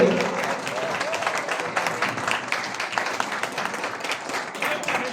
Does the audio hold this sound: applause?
yes